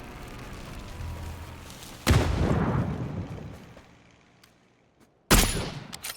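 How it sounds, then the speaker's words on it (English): Blue zone bombardment in PUBG: Battlegrounds, with a sharp, loud bomb blast whose long rumbling roll fades over a few seconds, then a second sudden close explosion near the end. "That sounds like a blue zone bomb."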